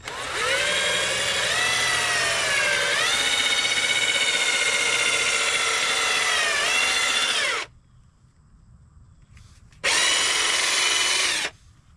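A power drill spins a foam pad at high speed, a loud whining buzz whose pitch shifts as the load changes. It stops abruptly, then gives one shorter high-speed burst after a brief quiet gap.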